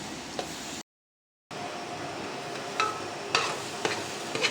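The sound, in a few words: stirring and sizzling minced meat mixture in a pan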